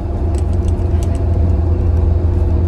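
A Corvette engine rumbles steadily up close at speed while accelerating away from a stop sign. The low, continuous drone holds loud throughout, with some faint ticks on top and no talking.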